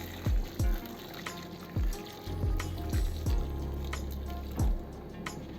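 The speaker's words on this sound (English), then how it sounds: "And add some water." Water poured into a pot of seafood and fish stew with squid makes soft liquid splashes and drips. Repeated low plops sound close and fairly quiet over a steady wet background.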